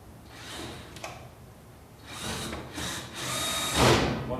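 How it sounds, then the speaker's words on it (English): A power screwdriver drives two screws into the back of a washing machine during a lid switch repair, giving several short whirring bursts that build to a loud final run, close by with no talk. "Then you have two screws that go in."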